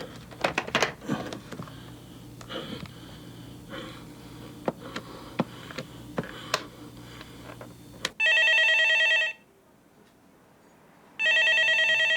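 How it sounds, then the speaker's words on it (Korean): An indoor telephone rings in two long electronic bursts separated by a pause, following several seconds of quiet shuffling, sniffing and small knocks in a room. "그 전화 좀 받아보지 그래"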